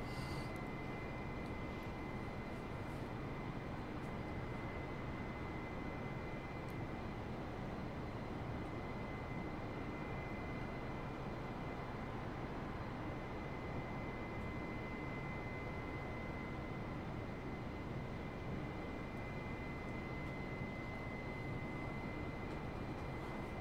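Airbus airliner engines in Microsoft Flight Simulator on Xbox Series X during a long cruise produce a faint, steady whine over a constant broadband hum, with no voices.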